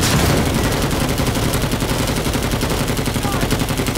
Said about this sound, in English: How does my flamethrower have recoil?